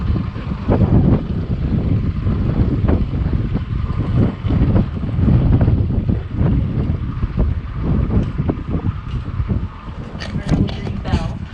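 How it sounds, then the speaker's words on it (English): Strong wind gusts roar steadily across the open forward deck of the Carnival Dream cruise ship, rumbling loud and close on the microphone while people talk nearby. "it gets very windy out here at certain times of the day"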